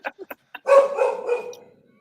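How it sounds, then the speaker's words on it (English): A dog gives a few quick short yips, then a longer whining bark-howl that fades out, heard close and fairly loud. "you're upsetting the dog"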